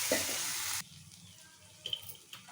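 Ginger garlic paste hits a hot pan in a home kitchen while a curry is being cooked, giving a loud hissing sizzle for under a second before it drops to a faint crackle with a few small pops.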